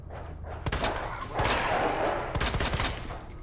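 Gunfire from a weapon in the Resident Evil 2 Remake video game, sharp repeated bursts of rapid shots in a few groups, loud and close, with no voices.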